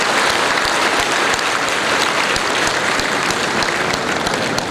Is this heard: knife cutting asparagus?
no